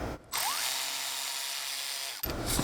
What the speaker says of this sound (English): I had to use a smaller ratchet, an electric one